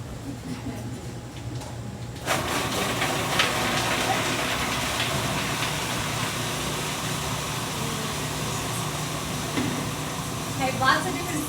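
A food processor blending cashew cheese kicks on after a couple of seconds of quiet and then runs as a steady, loud whirring roar until the end.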